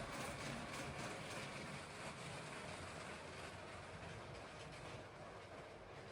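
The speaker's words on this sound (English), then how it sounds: "we've got the Maersk pulling 4 of the train cars" A steady, continuous rumble and rattle of a LEGO toy train pulling four cars along an elevated track, faint and unbroken throughout.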